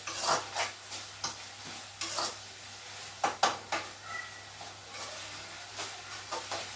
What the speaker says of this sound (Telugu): టమాటాలు అయితే చక్కగా మంచిగా ఫ్రై అవుతున్నాయండి